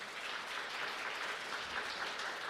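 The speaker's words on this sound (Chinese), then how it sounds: "我们再给他们热烈掌声好不好？" A congregation at a Sunday church service claps for the solo singers, an even, fairly distant wash of applause that holds steady throughout with no talking.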